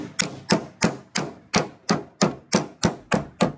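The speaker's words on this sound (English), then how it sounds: "And then you can hammer it." Ten steady hammer blows strike a metal gutter seam at an even, brisk rhythm, each a sharp close-up whack with a short ringing decay and no talk.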